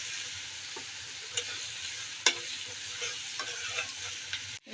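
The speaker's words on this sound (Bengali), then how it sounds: "মশলাটা কষিয়ে নিচ্ছি।" Spice paste is stir-fried in a pan while vegetables cook, giving a steady sizzle with scattered scraping clicks of a spatula stirring, close and alone without talk.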